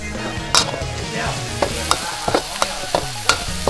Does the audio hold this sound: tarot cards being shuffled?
no